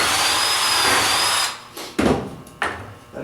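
A power drill bores pocket holes in a cabinet drawer, a loud, close whine for about a second and a half, followed by a few short clunks as the jig and workpiece are shifted.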